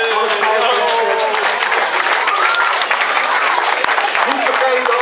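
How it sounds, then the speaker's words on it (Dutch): Loud, continuous applause from a crowd at a Dutch amateur football club championship celebration, honouring canteen and bar volunteers, dense clapping mixed with cheering voices throughout. "Ik wil als eerste beginnen met een heel groot applaus voor onze vrijwilligers in de kantine, in de bar"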